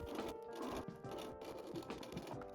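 A sewing machine top stitches around the upper edge of a fabric tote bag. The needle makes a steady, close whirring chatter that surges and eases in short runs, with no talking.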